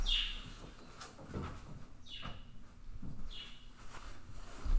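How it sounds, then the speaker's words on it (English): Several birds chirp and tweet in quick, sliding calls close by, fairly loud against a quiet background. "Birds got super loud."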